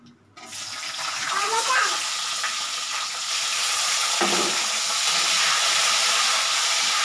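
Tomatoes drop into hot oil in a pan and set off a loud, steady sizzle that hisses on without a break, with a brief clink partway through.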